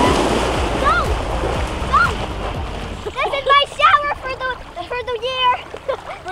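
Waves washing onto a beach behind a casino, a rushing surf hiss with splashes in the first half, then voices and chatter take over while the water noise continues faintly beneath.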